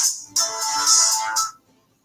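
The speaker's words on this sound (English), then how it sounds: "And my phone's ringing." A mobile phone ringing in a home kitchen while venison is being cooked, a loud, close melodic ringtone lasting just over a second before cutting off.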